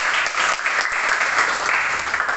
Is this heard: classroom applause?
yes